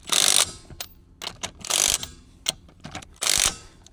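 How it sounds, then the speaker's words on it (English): An impact wrench fires in three short rattling bursts, tightening wheel lug nuts on a Can-Am Commander out on a trail, with softer clicks and handling noises between. "we're going to just go around this one more time with the impact"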